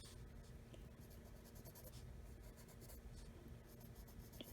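Colored pencil shading on paper in an adult coloring book, with soft, continuous scratchy strokes close up and faint, with no talking.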